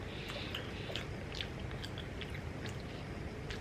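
Someone chews a soft, pillowy Vegemite scroll, with quiet, close, moist bites and squishy mastication repeating steadily over a low background hum, no speech.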